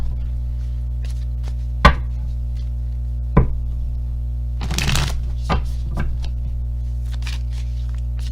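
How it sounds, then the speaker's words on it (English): Animal Spirit Oracle cards shuffled and pulled: a few sharp isolated card snaps, then a brief riffling flutter and scattered soft flicks, close and clear over a steady electrical hum. "Spirit told me to pull 2 cards from the Animal Spirit Oracle here for you"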